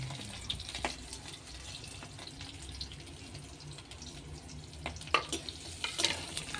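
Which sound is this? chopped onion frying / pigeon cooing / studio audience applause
chopped onion frying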